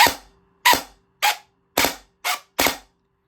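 DSG-build airsoft rifle on a DE Calico Jack platform firing six separate sharp shots at a slow, slightly uneven pace, loud and close, each crack fading quickly into silence.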